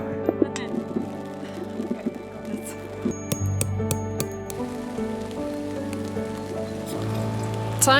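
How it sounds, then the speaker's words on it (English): Steady rain pattering on a surface at a campsite in Sweden, with scattered drips and light tapping, fairly close and continuous throughout. "Just us, the sound of the rain, and nowhere else to be."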